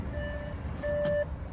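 An Audi A8 L sounds a warning chime with the car switched on: a few short, even beeps with gaps between them over a quiet interior hum.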